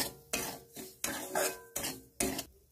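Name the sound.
semolina being lightly fried in ghee in a wok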